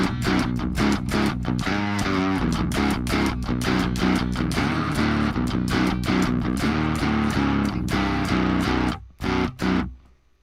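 A heavy, gritty synth bass from the Mammoth Bass iOS app pulses in a rhythmic pattern, loud and distorted, ending with a few choppy stabs before cutting out.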